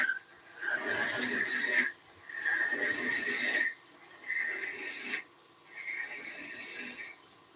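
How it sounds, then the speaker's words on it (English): A 3/8 skew chisel cuts a taper on a lathe-turned resin-and-banksia-pod piece, giving four long raspy scraping passes of about 1.5 seconds each, separated by short pauses, heard close up. "We're going to use a little SKEW, so a little signature SKEW. This is a 3/8, and to start with, just a taper."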